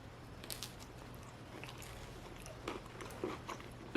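Soft crunching bites and chewing of a sourdough discard cracker topped with pimento cheese, close and quiet, a few brief crisp crunches spread over a few seconds.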